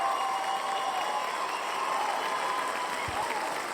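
A fake studio audience track of applause and cheering plays continuously, a dense, even wash of clapping and crowd noise at steady loudness throughout.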